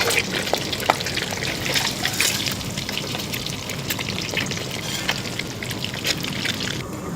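Eggs fry in oil in a kadai, a large batch cooked for tomato rice, giving a steady crackling sizzle with scattered pops that continue evenly throughout, close and moderately loud.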